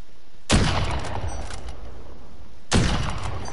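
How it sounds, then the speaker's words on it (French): Gunfire in the Call of Duty video game: two loud, sharp shots about two seconds apart, each with a rolling echo tail over a steady background hum, with no talking. "Je sens que ça tire pas loin."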